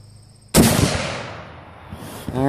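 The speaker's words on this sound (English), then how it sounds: "Going to line up for a second shot." A single sharp Springfield M1903 .30-06 rifle shot cracks out loudly at an outdoor range, its blast rolling away in a long decaying echo, followed by a faint metallic click.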